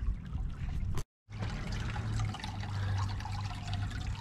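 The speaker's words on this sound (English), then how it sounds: "I just walked past this little mini creek, probably just a wet weather ditch or creek" Water trickles and gurgles steadily through a small wet-weather ditch or creek, close and continuous apart from a brief silent gap, with no talking.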